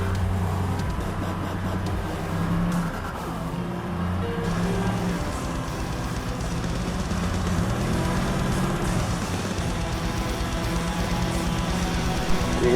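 A car engine running in gear with its wheels spinning, fitted with a T5 Borg Warner gearbox converted from cable to hydraulic clutch, a steady low drone and whirr held for several seconds without talk.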